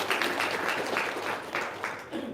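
An audience at a religious talk gives a short round of applause, moderately faint and somewhat distant, with claps blending into a soft patter before fading.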